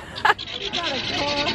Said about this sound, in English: Look at the goat, Abby.